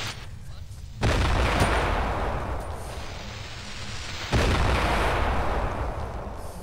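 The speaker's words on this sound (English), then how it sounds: "I heard an explosion, by the way." Explosions and gunfire in the Fortnite video game, two loud booming blasts with long rumbling decays that fill the clip.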